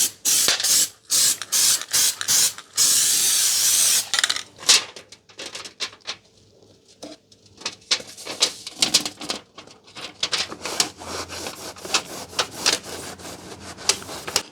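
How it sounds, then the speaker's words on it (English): Spray can of contact adhesive being applied to thick aluminium, several short hissing bursts followed by one longer spray, then intermittent clatter and handling noises with quiet gaps. "This is just spray on contact adhesive."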